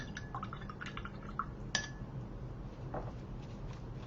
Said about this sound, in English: let's go ahead and rinse this brush out properly